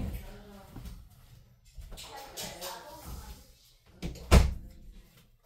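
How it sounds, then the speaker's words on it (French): A door being closed indoors at home, a single soft thump near the end after quiet shuffling and some talking. "je vais juste fermer ma porte parce que mes enfants arrivent"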